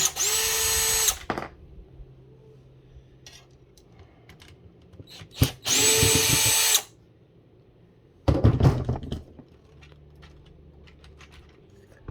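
A power drill whirs in three separate short bursts while taking screws out of a dash panel on a 2011 Kia Forte. The drill is close and loud, with quieter handling clatter between the bursts.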